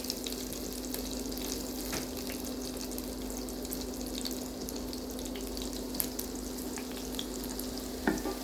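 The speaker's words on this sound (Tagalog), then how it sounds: "Now let's fry our minced garlic." Minced garlic frying in melted butter and oil, a soft continuous sizzle with light stirring and a low steady hum beneath, plus a couple of small clinks near the end.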